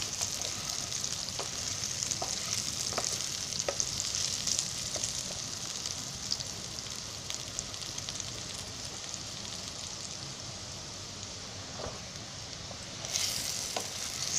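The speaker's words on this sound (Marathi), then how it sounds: "असे 1-1 मिनिटांनी आहे ना ते हलवायचे, म्हणजे कसे सगळीकडून ते भाजायला पाहिजेत ना, म्हणून" Fenugreek leaf vegetable rolls roast in a pan with a little oil, giving a steady close sizzle with occasional scrapes and clinks as they are stirred and turned.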